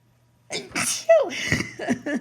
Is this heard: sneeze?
yes